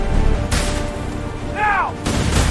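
Union infantry at Gettysburg fire a musket volley, heard as two loud blasts about one and a half seconds apart, with a brief tonal whistle between them and no speech.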